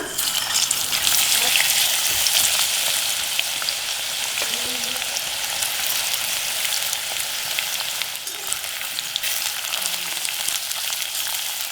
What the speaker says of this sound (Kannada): ಎಣ್ಣೆ ಕಾದಿದೆ ಈಗ ಹಾಗಲಕಾಯಿ ಹಾಕೊಳ್ಳೋಣ